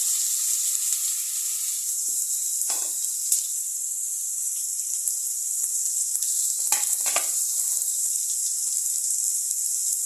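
Four onions sautéing in a pan for vegetable kurma give a steady, close sizzle throughout, broken by a few soft stirring scrapes.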